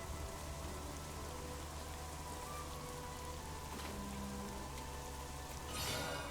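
Rain falling in Black Desert Online, a constant soft hiss of drops that runs throughout at low volume, with a faint brief tone midway and a slight swell near the end, no talking.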